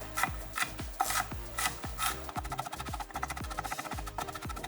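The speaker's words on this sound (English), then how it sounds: "we're going to mince 8 cloves of garlic" Eight garlic cloves minced with a knife on a cutting board, a fast, close series of crisp chopping taps in an uneven rhythm, with no talk.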